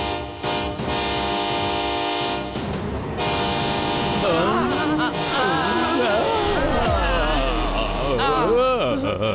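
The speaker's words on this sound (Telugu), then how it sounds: "ట్రైన్ వస్తుంది." A cartoon train approaches with a wavering horn blast and rumbling rail noise under a busy music score, growing louder and fuller toward the end.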